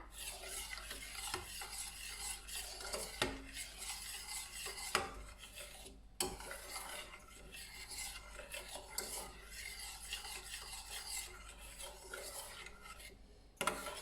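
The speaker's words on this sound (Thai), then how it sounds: "ก็เคี่ยวไปเรื่อย ๆ จนกว่าน้ำซอสของเราจะข้นดีนะคะ" A spoon or spatula stirs a sauce for Thai son-in-law eggs as it simmers in a pan over low to medium heat, with soft scraping, light bubbling and occasional sharper knocks against the pan, close and quiet.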